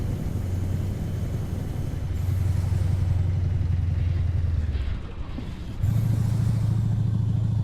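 Mack Superliner truck with an E9 engine in American Truck Simulator, a steady low droning engine hum that dips briefly then returns louder, continuous and close with no talk.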